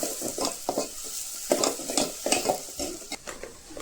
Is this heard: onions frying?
yes